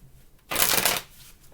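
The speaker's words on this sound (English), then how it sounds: "2 more shuffles." A deck of tarot cards is riffle-shuffled once, a brief, loud, crisp fluttering burst of card edges lasting about half a second in an otherwise quiet room.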